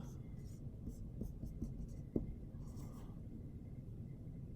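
A pen or marker writes the steps of a maths problem on a board, making soft scratchy strokes and light taps. The strokes are faint against a constant low room hum.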